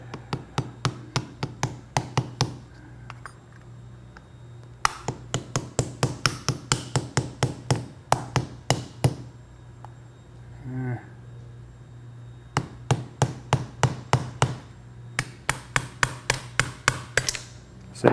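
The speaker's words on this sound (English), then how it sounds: "when we tap it with a hammer, the little mechanical shock waves that are going through the block and the mold" A hammer taps repeatedly on a steel injection mold block, delivering fast rhythmic bursts of sharp metallic knocks separated by short pauses, close and loud over a steady low hum.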